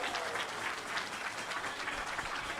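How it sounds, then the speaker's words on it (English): Audience applauding at a Rotary Club meeting in Tucson, a steady wash of many hands clapping, fairly faint and even throughout, with no speech over it. "let's give him a big round of applause for that."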